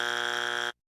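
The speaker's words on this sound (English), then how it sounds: "Hit the buzzer." Buzzer sound effect, a single loud, harsh electronic buzz held steady for under a second before cutting off abruptly into silence.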